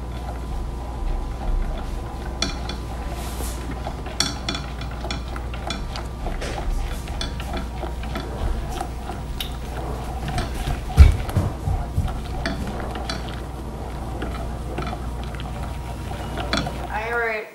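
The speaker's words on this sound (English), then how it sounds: "And we're going to stir constantly." Gelato base being stirred constantly in a pan as it reheats to 170 degrees, a steady scraping and clinking of the utensil against the metal over a low hum, close and continuous.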